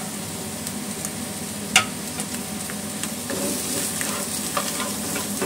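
Shallots and garlic sauté in a pan with a steady bright sizzle, broken by one sharp utensil knock and light stirring scrapes, heard up close with no speech.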